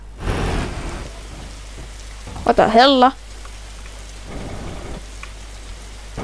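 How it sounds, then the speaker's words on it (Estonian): Steady rain in a video game hisses throughout, with a voice speaking briefly midway over the downpour. "Vihma hakkas sadama."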